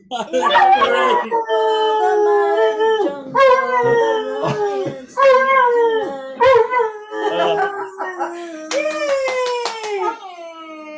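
A dog howls along while a person sings a song, its long wavering howls rising over and under the loud singing, followed by a few short yips near the end.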